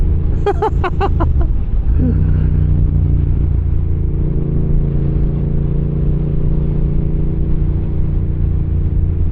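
A Yamaha MT-07 motorcycle cruising on a highway gives a loud, steady engine drone with constant rumble and wind roar, and a brief rise in pitch near the start.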